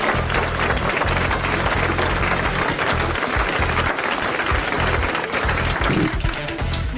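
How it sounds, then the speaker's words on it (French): Studio audience at a 1981 French television variety show applauds steadily and loudly, a dense unbroken wall of clapping that holds for several seconds with no voices over it. "on vous applaudit ici de confiance au départ, quand vous n'avez rien fait"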